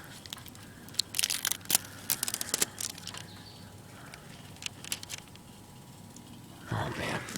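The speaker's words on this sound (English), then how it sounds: "carefully peel back these tear strips" Plastic tear strips peeled back from refrigerant line insulation, giving short crackling, ripping bursts in clusters, fairly close, with quiet gaps and a louder rustle near the end.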